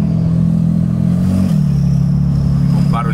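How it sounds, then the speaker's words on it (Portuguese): A Porsche 911 Turbo drives past, its engine a loud, low, steady drone, with a faint high turbo whistle riding above it and a voice talking over the engine. "Você consegue ouvir o barulhinho das turbinas aqui"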